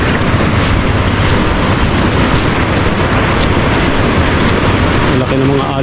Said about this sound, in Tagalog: Malaki ng mga alon.